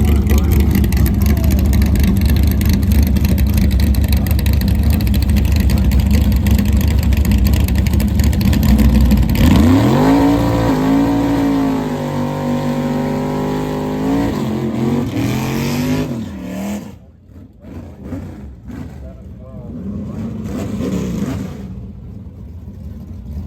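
Bracket racing cars at a night semifinal event, loud engines roaring and accelerating with rising revs, a sweep near the middle, then fading into crowd and talk.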